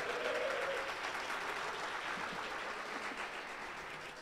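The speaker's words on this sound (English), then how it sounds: "How about a round of applause for whiskey," Steady applause from an audience at a video game awards ceremony on a cold night in New York City, a continuous wash of clapping with no talking, gradually easing.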